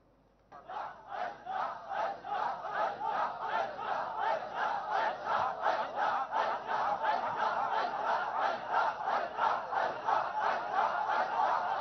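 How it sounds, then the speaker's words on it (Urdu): Large crowd chanting slogans in a steady rhythmic call, many voices pulsing together in regular bursts, slightly distant and sustained throughout. "یہ کوئی نعرے لگا رہے ہیں یہ"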